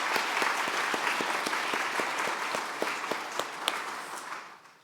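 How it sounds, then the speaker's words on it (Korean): A church congregation at a New Year's dawn prayer meeting claps steadily in dense, sustained applause for the children, loud and continuous, tapering off at the end with no talk over it. "우리 아이들을 위해서 격려의 박수 한번 하겠습니다."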